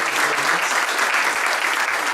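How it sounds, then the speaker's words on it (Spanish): Audience applause closing a lecture at a university event, dense and steady clapping from a crowd filling the whole stretch without a break. "Creo que le damos un aplauso."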